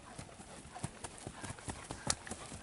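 Horse hooves cantering in a flatwork schooling session, a quick rhythmic clip-clop of steady beats on soft footing at moderate distance, faint and continuous.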